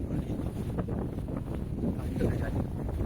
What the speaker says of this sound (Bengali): ভীষণ হাওয়া চলছে, দেখতেই পাচ্ছেন, কথা বলছি হাওয়া দিচ্ছে।